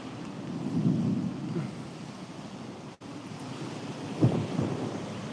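Thunder from lightning strikes, with low distant rumbles that swell and fade, one near the start and a sharper one late, faint and alone.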